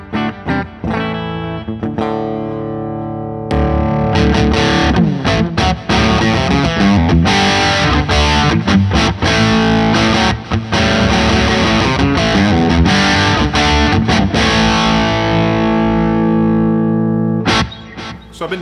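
An electric guitar with humbuckers, a PRS, plays through an amp with a Vertex T Drive overdrive pedal bypassed. A quieter opening passage gives way to loud, busy, slightly driven riffing with dense strummed chords for most of the stretch before a brief drop near the end.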